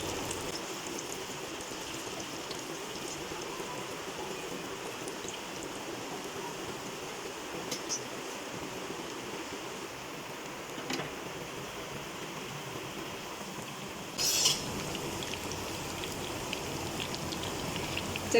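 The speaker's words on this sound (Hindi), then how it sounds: "तो एक एक करके फ्राई कर लेते हैं।" Rolled colocasia (arvi) leaf rolls fry in hot oil one at a time, giving a steady, even sizzling hiss that runs unbroken throughout with a few faint clicks, and no voices.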